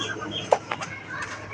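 Five young poultry birds kept as pets cluck in a few short, soft calls close by, with brief pauses between them.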